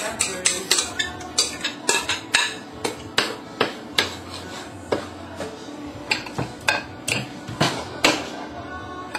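A large spoon stirring and tapping through banana cake batter in a bowl, sharp irregular knocks and clicks against the bowl repeating steadily, with a soft wet mixing sound between them.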